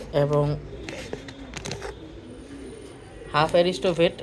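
Pigeons coo in low, throaty rolling phrases near the start and again at the end, with soft rustling between, recorded close by while they are tended on a rainy day.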